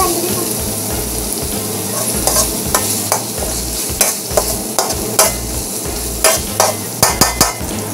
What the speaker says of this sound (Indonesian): Tumis sampai cili ni masak ya.